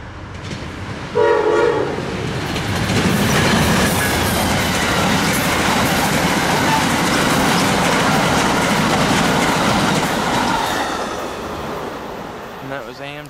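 Northbound Amtrak P092 passenger train passing close by, a loud continuous roar of wheels with clickety-clack rhythm and a brief horn blast near the start.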